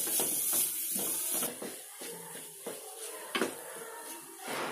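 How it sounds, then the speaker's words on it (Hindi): Khoya, also called mawa, roasting in a pan over a low flame for almond barfi, giving a steady soft sizzle and hiss with irregular scraping and stirring clinks running throughout. "ये देखिए कितने अच्छे से इसका ये भुन रहा है खोया"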